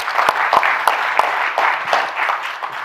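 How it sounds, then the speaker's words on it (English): A summit audience on sustainability in Southeast Europe and the Mediterranean applauds a minister after a speech, with loud, close, steady clapping and a few sharper individual claps standing out. "it's not automatic that a minister gets a round of applause"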